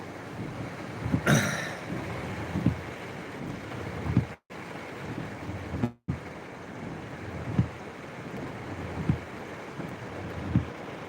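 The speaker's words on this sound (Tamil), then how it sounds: "நல்ல மழை சரியான மழை காற்று" Steady roar of heavy rain and gusting wind in Kerala, with wind buffeting the microphone in periodic thumps and a couple of brief dropouts.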